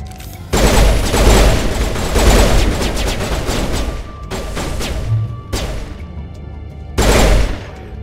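Sustained automatic gunfire from a Mass Effect firefight in a warehouse, dense bursts with brief pauses and a final loud volley, no talk.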